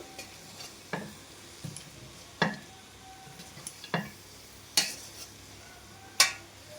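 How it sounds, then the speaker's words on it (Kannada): A spoon stirs vangibath gojju with coconut and coriander leaves in a pan, giving a series of sharp scraping clinks spaced a second or so apart over a quiet, low sizzle. "ಕೊಬ್ಬರಿ, ಕೊತ್ತಂಬರಿ ಸೊಪ್ಪು ಎಲ್ಲ ಹಾಕಿಬಿಟ್ಟು ಲೈಟಾಗಿ ಮೆಲ್ಲಗೆ ಈ ಥರ ಮಿಕ್ಸ್ ಮಾಡಿಪ್ಪ"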